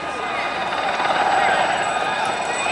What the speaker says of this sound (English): this lovely example of the Gazelle helicopter